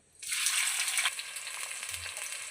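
Two large thinly sliced onions hit hot oil in a pan for mutton curry, bursting into a loud, steady sizzle that peaks early and then settles to a continuous frying hiss with no voices.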